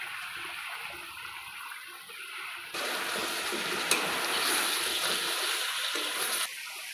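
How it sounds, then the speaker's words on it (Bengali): Potatoes drop into a pan of frying chicken curry, and a steady hiss suddenly swells into a louder, broader sizzle that holds, then eases back just before the end. "এবার আমি আলুগুলো দিয়ে দেব।"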